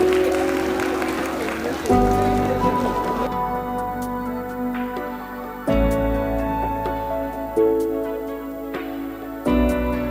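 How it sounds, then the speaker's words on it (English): Applause from the convocation audience for certificate recipients, dense clapping under loud music with recurring stabs, the clapping fading after the first few seconds. "A big round of applause for everybody who has received the certificate today."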